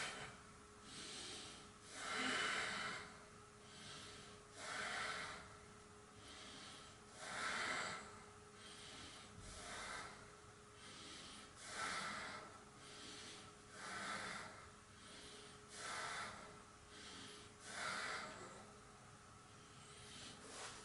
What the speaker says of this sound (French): Et je respire.